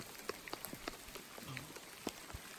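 Heavy, hail-like rain patters on a surface in scattered, irregular sharp ticks and taps, close by and fairly quiet overall, with no talking.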